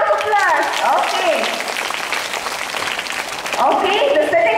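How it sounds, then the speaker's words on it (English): Students at a school prayer-week assembly break into a short burst of fairly loud group applause, with a child's and an adult's voices heard just before and after the clapping. "Shall we give him a round of applause?"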